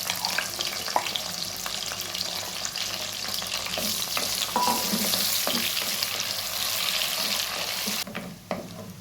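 Dried red chillies fry in hot oil with a steady close sizzle and occasional stirring scrapes, continuous and fairly quiet throughout.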